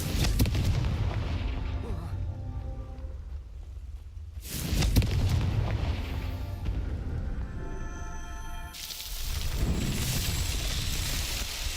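Booming Confringo blasting-spell explosions from Hogwarts Legacy erupt in several loud bursts with rumbling tails, mixed with game effects and music.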